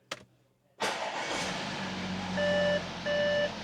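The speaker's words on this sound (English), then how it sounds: "let's get on the key, start it up," Audi A6 Allroad with 161,000 miles and an S-tronic gearbox being started with the key: a brief click, then the engine cranks and catches into a steady idle, with chimes from the car sounding twice.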